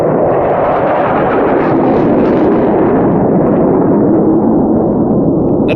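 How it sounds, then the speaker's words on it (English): F-16 fighter jets pass overhead with a loud, continuous roaring rush that swells and slowly fades, with no other sounds. "That's the sound of freedom. F-16s."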